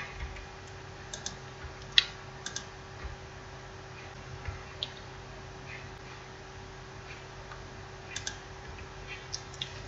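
Quiet, sparse clicks of computer keyboard keys being tapped while code is deleted, arriving in small irregular clusters over a faint steady hum, with no voices.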